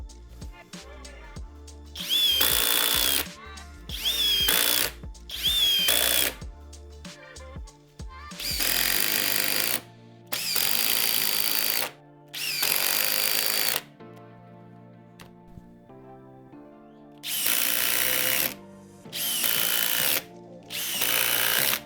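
Impact drivers drive deck screws in a series of loud, close bursts of rapid ratcheting hammering. Several short runs come first, then longer sustained ones, separated by brief quiet gaps.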